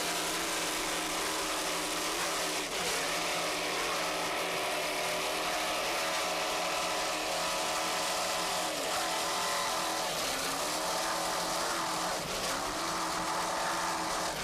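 A twin-turbo offshore racing powerboat from the 1993 Offshore Challenge on rough Lake Erie water drones with a continuous loud engine roar that wavers slightly in pitch throughout.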